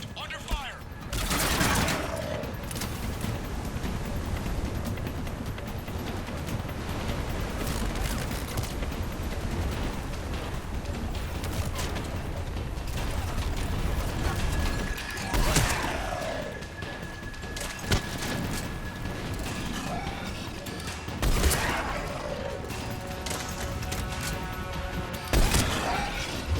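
Gunfire in Mass Effect 3 during a firefight, with bursts of shots and impact cracks scattered over a long stretch of steady combat ambience, some sharper volleys standing out, with occasional speech in between.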